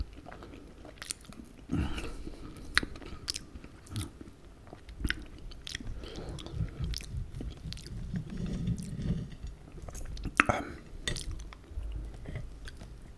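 Close-up eating of duck with French-style lentils: soft chewing and biting, occasional crunches and light clinks of cutlery against a plate, with quiet pauses between mouthfuls.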